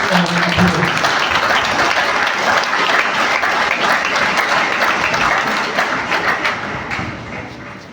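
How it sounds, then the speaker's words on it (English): A crowd at an ICT ministry event applauds a government official as he is introduced, loud, dense clapping that runs steadily and then tapers off, with some voices mixed in. "Let's give him a round of applause."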